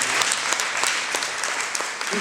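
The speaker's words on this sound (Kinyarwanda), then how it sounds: "mwamumereye amashyi wawe" An audience at a wedding ceremony claps in a continuous round of applause, dense and steady, with a voice briefly audible near the end.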